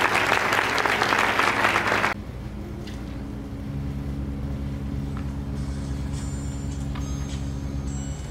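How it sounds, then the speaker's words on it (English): Audience applause at a celebration-of-life service for a violinist, loud and dense for about two seconds, then cutting off abruptly into low room hum and faint background noise. "Come on, let's clap our hands for our violinist."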